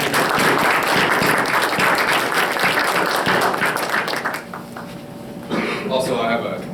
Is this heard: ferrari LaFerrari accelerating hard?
no